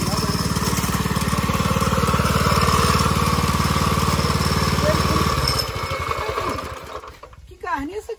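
A small 100cc motorbike engine idles close by with a steady, buzzy pulsing rumble, then the note drops and roughens near the end as a voice comes in over it.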